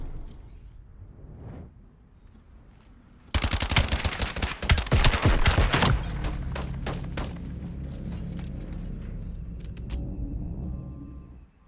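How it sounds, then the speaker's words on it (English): In a competitive esports match between Las Vegas Dream and Rated Texas, video game gunfire bursts in after a quiet stretch: loud rapid automatic fire and overlapping shots for a couple of seconds, then a lingering lower rumble with scattered clicks. "The gunfire, the firepower just a little bit too strong from Las Vegas Dream"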